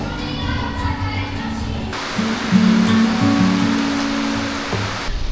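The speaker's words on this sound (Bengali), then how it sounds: "প্রচণ্ড বৃষ্টি হচ্ছে, তোমাদেরকে দেখাই।" Heavy rain pours steadily near Massanjore, a dense constant wash of noise running throughout, with faint voices and low tones underneath.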